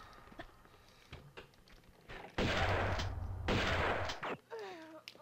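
A shotgun fires in the video game Tomb Raider 2: a loud blast followed by a second burst, with scattered in-game thuds and footsteps around them.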